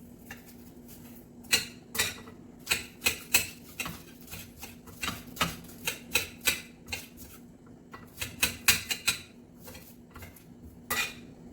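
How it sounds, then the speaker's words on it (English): A knife chops scallions finely on a cutting board in sharp, irregular bursts of crisp taps, some spaced and some in quick runs, close and fairly loud with no talking. "Scallion, I'm gonna cut them nice and fine."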